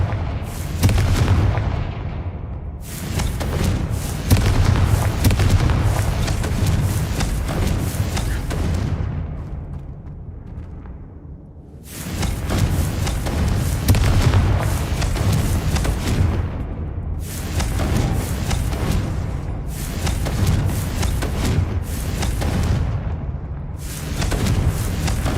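Repeated loud blasts from the Confringo fire spell in Hogwarts Legacy, dense booming explosions following one another in quick succession with short gaps, rumbling and crackling throughout.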